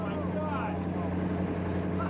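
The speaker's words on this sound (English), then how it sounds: "the engine is running just as smooth as it was a moment ago when it had oil in it" Car engine idling smoothly with sand poured inside it after the oil was drained, a steady low hum heard continuously, with someone talking over it.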